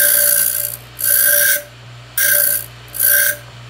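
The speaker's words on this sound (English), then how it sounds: "slowly just kind of run it into the wheel just so it starts dragging. You'll turn the filer on." A piston ring filer grinds a Total Seal Power Ring for end gap, giving four loud, even rasping bursts of about half a second each, with short pauses between them and a steady motor hum underneath.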